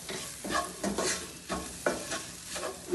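Spice powders, including pepper and turmeric, sizzle gently in a pan for a chicken liver roast, with a spoon stirring and scraping in short, irregular strokes close by.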